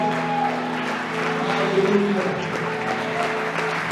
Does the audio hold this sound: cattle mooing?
no